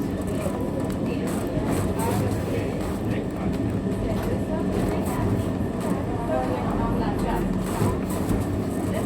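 A train ride in Malmö rumbles on as a steady, close interior drone with faint clicking from the rails, and voices talk intermittently over it.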